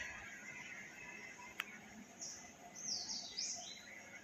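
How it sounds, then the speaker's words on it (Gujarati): Sparrows chirp faintly from inside a mango tree, a few brief high twitters in a quiet setting, with one sharp click early on. "કેવો અવાજ કરે છે બધી ચકલીઓ અંદર બેઠી બેઠી"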